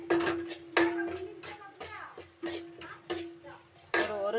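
Curry leaves and spices being sautéed over low flame in a pan for hotel-style rasam, sharp metallic spoon taps and scrapes at a steady pace over a faint sizzle, close by with no talk.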